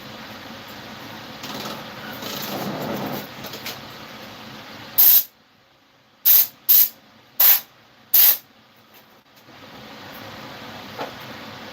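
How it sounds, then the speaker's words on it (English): Compressed air hose blowing in a wood shop, five loud sharp hissing bursts, the first longer and the rest short in quick succession, after a stretch of low background rumble. "I got to take my air hose here."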